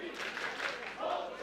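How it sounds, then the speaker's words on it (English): A dense, steady roar of a stadium crowd at a Switzerland versus Italy American football qualifier in the IFAF European championship, loud and continuous, with the chanting blended into the crowd noise. "Now you hear the Hop Schweiz chants, which means let's go Switzerland or Forza Svizzera"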